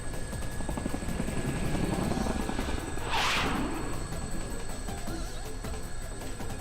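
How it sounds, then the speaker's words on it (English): A helicopter from the fighting game Persona 4 Arena Ultimax drones steadily throughout, with a brief whooshing surge midway as it banks into a sharp turn, then settles back into its constant rotor hum. "the helicopter makes a sharp turn and we're all thrown to the side"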